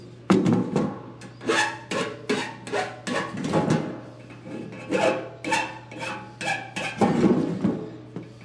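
A hand file is pushed across sheet metal in steady, rasping strokes, roughly two per second, each one close and crisp with brief gaps between, and no talking.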